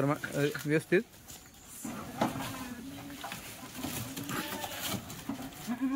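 Goats bleating while being loaded for transport, several wavering bleats rising near and far amid shuffling movement, with people talking over them.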